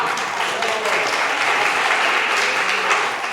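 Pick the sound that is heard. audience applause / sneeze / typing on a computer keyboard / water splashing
audience applause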